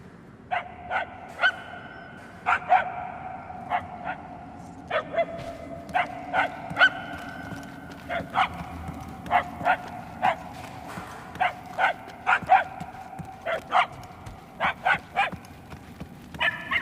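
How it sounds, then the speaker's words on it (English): Dog barking in the Guardians of the Galaxy video game, repeated bright barks in irregular bursts of one to three, moderately distant, continuing over a low ambient background. "The barking is getting fainter."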